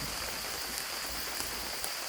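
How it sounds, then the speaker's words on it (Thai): Steady, soft patter of light drizzle in a forest, a continuous fine hiss with a few faint drop ticks. "บรรยากาศตอนนี้ฝนตกปปรอยนะครับ"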